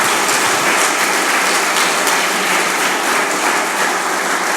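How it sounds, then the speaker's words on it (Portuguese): Church congregation applauding during a sermon, a dense, loud, continuous wash of clapping from many people, close and steady throughout with no voices on top. "Você pode aplaudir a Jesus?"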